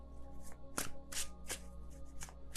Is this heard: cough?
no